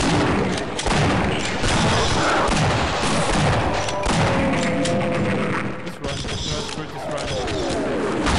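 Gunfire in the Half-Life PC game, a loud, dense run of booming shots and thuds in quick succession, with brief pauses, under heavy in-game noise and a talking player.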